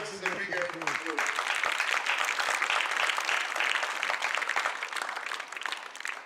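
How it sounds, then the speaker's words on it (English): An audience applauds sponsors at the opening ceremony of a T20 cricket tournament, with dense clapping that starts after a brief voice and holds steady for several seconds. "Let's please give our sponsors a big hand of applause."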